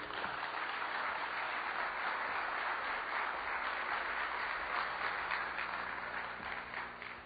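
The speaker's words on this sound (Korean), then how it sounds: "힘찬 박수로 맞이해 주셨으면 감사하겠습니다" Sustained audience applause welcoming a pastor at the opening ceremony of an ecumenical Korean church dialogue forum, a dense, steady wash of many hands filling a large hall, fading slightly at the end.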